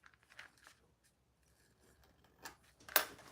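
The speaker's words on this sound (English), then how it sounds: "I'm going to just trim it down just a little." Scissors trim fabric while a fish plush is sewn, making a few faint, close snips and soft rustles, with a sharper cut near the end.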